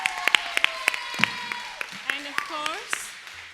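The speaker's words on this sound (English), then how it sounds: "We all need to give her a round of applause for her dedication and hard" An audience claps at a Kuchipudi dance debut performance, with scattered, separate hand claps from a modest crowd under a voice speaking over them.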